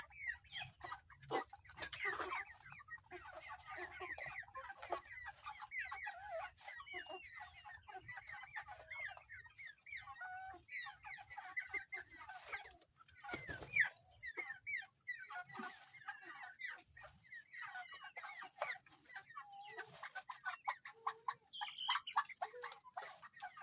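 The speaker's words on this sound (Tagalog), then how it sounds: "samahan niyo akong magpatuka sa alaga nating mga manok" Organic backyard chickens cluck and peck steadily while being fed, a dense overlapping chorus of short clucks and scratching taps that stays fairly close and continuous throughout, with no talking.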